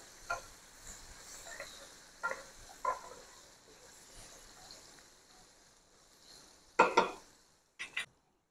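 Cubed ash gourd (petha) is stirred in a pan with turmeric and spices, giving a faint sizzle broken by intermittent spoon scrapes and clinks against the pan, with a louder clatter of stirring near the end.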